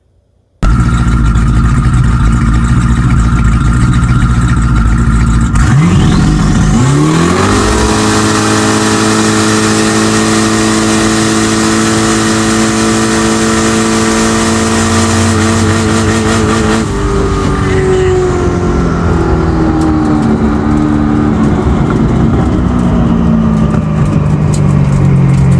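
A twin-turbo Dodge Scat Pack at a drag race idles with a deep rumble, then launches into a loud, sustained high-revving roar that climbs steadily before the pitch drops away near the end.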